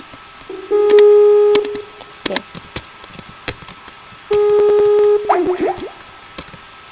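A phone being dialed in a Minecraft game: two long steady electronic tones with clicks and short blips between them, plus scattered sharp game clicks.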